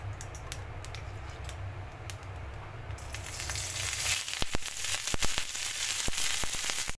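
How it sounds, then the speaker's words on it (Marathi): Green chillies dry-roasting in a kadhai give a soft crackle that swells after a few seconds into a busier, louder sizzle with sharp pops and scrapes, close and alone with no voices. "मिरच्या टाकूया कढईमध्ये आणि परतत राहूया।"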